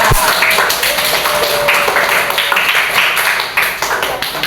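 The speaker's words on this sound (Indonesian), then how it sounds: "Ya, tepuk tangan dulu." A school class claps together, a dense patter of applause under a few voices that fades toward the end.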